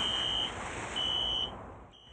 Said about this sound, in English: Carnival says as a safeguard, they are now testing alarm systems like this